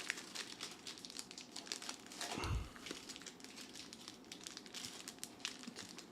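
Foil trading card packs crinkle and crackle nearby in a steady run of small rustles, with one louder tearing crunch partway through, and no talking.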